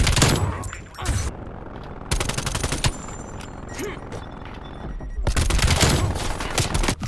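AK74U submachine gun firing in Call of Duty: Black Ops on PS5, loud rapid automatic bursts in three long strings separated by brief pauses, with game effects between.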